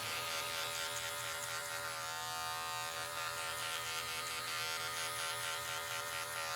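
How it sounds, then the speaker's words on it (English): An electric hair clipper buzzes steadily and close up for the whole stretch, a continuous motor drone used with a comb on a home quarantine haircut, with no talking. "show you on the other side of the head how to do this with the clipper and the comb"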